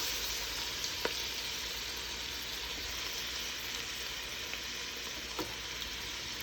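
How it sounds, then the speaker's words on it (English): Chopped onions sizzle in melted butter over a medium-low flame, a steady, soft, even crackle with no voices. "I'm going to take all of my chopped up onions, and I'm just going to put these in here on a medium to low fire"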